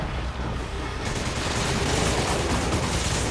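Continuous rapid gunfire during a boss fight in Resident Evil 5, a dense loud stream of shots with no pauses, with no talk over it.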